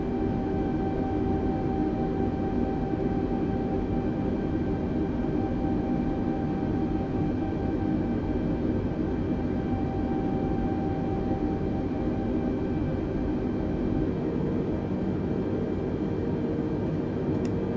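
An Airbus A320 taxis in a flight simulator, its engines giving a steady, even jet whine and rumble with faint tonal hum. The sound holds unchanging throughout, with no voices over it.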